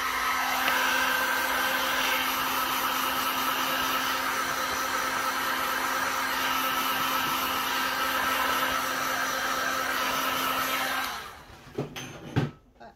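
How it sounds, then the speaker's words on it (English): A heat gun blows hot air over 3D resin flower coasters. It makes a loud, steady whooshing roar for about eleven seconds, then cuts off, followed by a few soft clunks. "I'm just going to get my little heat gun out. Just give them a little bit of heat."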